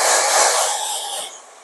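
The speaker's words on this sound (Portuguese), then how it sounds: "Já vai projetando aqui o vento do secador para onde que você quer deixar o cabelo." A hair dryer blows while a child's scissor-cut hair is styled, producing a loud, close, steady airy hiss that eases off and fades toward the end.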